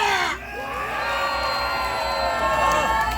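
A crowd roars and cheers loudly, a dense wash of voices with a few higher shouts rising and falling throughout.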